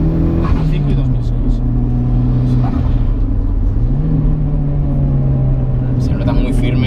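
A tuned Mitsubishi Lancer Evo 8 MR engine drones steadily from inside the car as it drives, with pitch steps at gear changes, under continuous talking.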